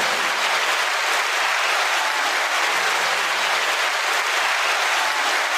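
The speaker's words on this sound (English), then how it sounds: "9-second applause." Sustained applause, an even, dense roar of clapping from many hands that stays loud and constant for several seconds with no talking.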